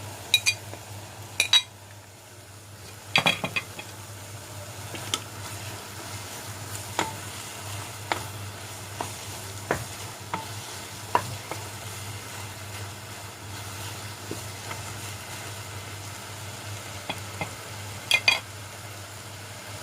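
Whole cumin seeds and a green chilli sizzle faintly in a frying pan for keema matar curry, with a low steady hiss under scattered sharp clicks and taps of a utensil against the pan.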